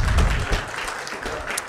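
Church congregation applauding during a Sunday morning service, a dense wash of clapping that swells briefly at the start and then settles into a steady, moderately loud patter.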